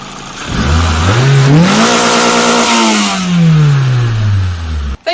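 A Toyota Celica GT engine revs up from idle, holds high revs for a couple of seconds, then slowly winds back down, loud and close, ending with a brief sharp knock.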